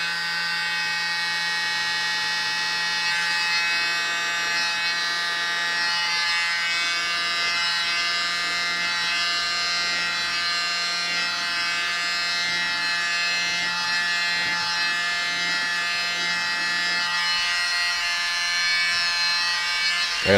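A small electric air blower runs steadily through the whole stretch while fluid-art paint with bubbles is pushed across a surface: a continuous close buzzing whine, loud and even, with no talk over it.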